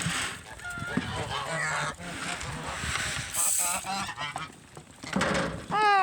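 Geese honking repeatedly nearby, harsh nasal calls overlapping amid background bird noise and faint voices.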